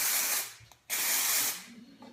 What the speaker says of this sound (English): just pull my hair back gently like this and spray it